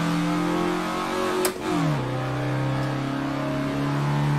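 A car engine at full throttle holds a steady, droning rev, with a brief shift and drop in pitch before it settles again.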